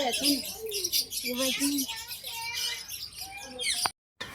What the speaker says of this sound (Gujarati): આ બચ્ચા છે પોપટ.